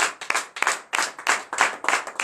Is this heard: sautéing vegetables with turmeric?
no